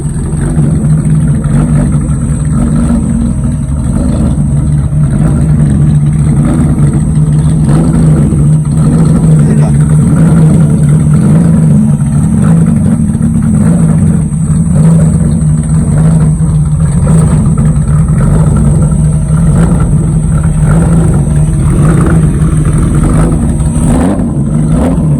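A V6 naturally aspirated Mitsubishi Mirage engine running on pump gas on a dyno, a loud, steady engine drone that holds near constant throughout with little change in pitch.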